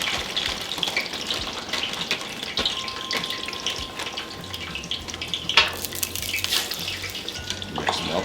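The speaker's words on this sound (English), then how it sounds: "We're getting a good sizzle." Frozen fries sizzle steadily in hot frying oil for carne asada fries, a loud, continuous crackling hiss with a few sharper pops and stirring noises close by, and no talking.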